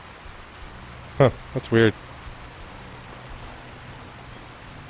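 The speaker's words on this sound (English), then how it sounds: "how wonderful it would be to get out of this infernal rain" Steady, hissing rain falls in Fallout 4, a soft wash of noise across the whole stretch, while someone briefly speaks partway through.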